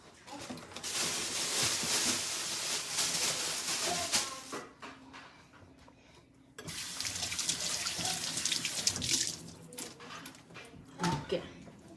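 Tap water runs into a kitchen sink for washing, a steady splashing rush that pauses briefly midway and then resumes, with clinks of handling near the end.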